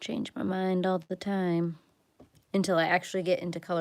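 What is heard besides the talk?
No distinct noise like a dog, phone or traffic.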